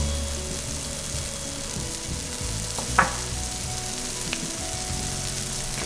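Mushrooms sizzle and fry steadily in oil in a pan as a vegetarian farro risotto is cooked, a continuous close crackling hiss with a brief clatter of stirring partway through and no talking.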